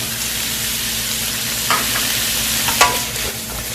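Sweet potato stems stir-fried raw in a pan with fish sauce and perilla powder give a steady close sizzle throughout, with a few sharp scraping clicks as the spatula moves, and no one speaks.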